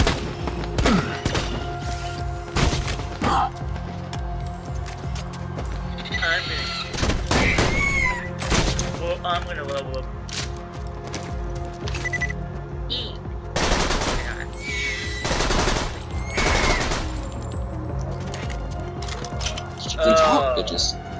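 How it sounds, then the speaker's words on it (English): Bursts of gunfire from shooting bats in the video game Borderlands 2, rapid volleys and single shots recurring at irregular intervals over game music and effects, with a person talking throughout. "I'm just shooting bats"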